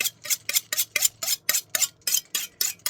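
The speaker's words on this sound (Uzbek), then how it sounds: "Pichog'imiz o'tkir bo'lishi uchun uni charxlab olamiz." A knife is sharpened in quick, even strokes, about a dozen crisp metallic swipes in steady rhythm, close and alone.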